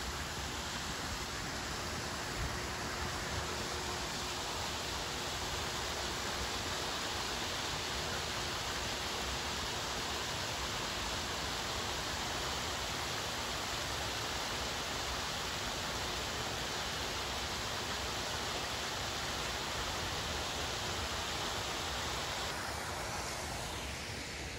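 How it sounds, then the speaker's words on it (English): The Chedoke waterfall on the Niagara Escarpment gives off a continuous, even hiss of falling water. It sounds moderately distant and unchanging for the full length, with no talk. "There's this waterfall right here."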